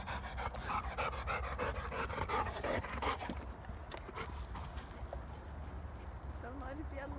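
A dog running downhill and uphill, rhythmic heavy panting with quick footfalls close by, joined by people talking over it in the first half.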